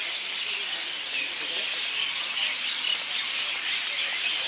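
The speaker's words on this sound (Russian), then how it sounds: "Плюс птички, да, здесь?" Birds chirping outdoors at the Registan, a steady wash of small high tweets and calls over a constant background hiss, moderately distant and continuous throughout.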